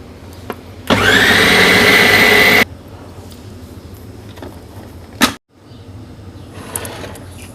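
An electric chopper grinds soaked moong dal for kababs in one loud, whirring burst of under two seconds, followed by a quiet bump and faint handling noises.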